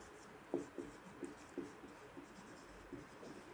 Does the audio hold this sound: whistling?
no